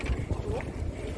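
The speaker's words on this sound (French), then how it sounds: "Il y a du vent aujourd'hui." Gusty wind buffeting a microphone aboard a sailboat heading out to sea in heavy swell, a low rumbling roar with a faint creak, steady and close.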